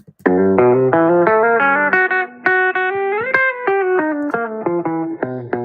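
Electric guitar riff with heavy effects from a homemade album, a loud distorted run of stepping notes played in quick, choppy phrases with short gaps, no voices present.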